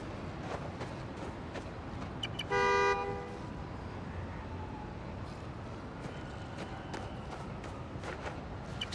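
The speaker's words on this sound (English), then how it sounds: "Find the horn, find the car." A car horn honks in the Spider-Man: Miles Morales video game, one steady blast of about half a second rising clearly over a low city background of traffic and ambient noise.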